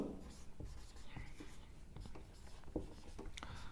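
Chalk or marker writing on a board during a chemistry lecture on dihydric alcohols, heard as faint scratchy strokes in short bursts against a quiet room.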